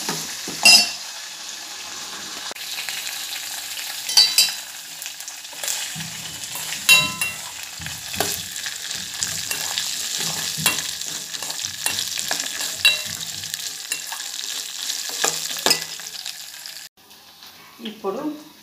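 Vermicelli for payasam fries in a pan with a soft, steady sizzle broken by repeated stirring clinks and scrapes close by, a voice occasionally speaking over it, and the sizzle thinning near the end.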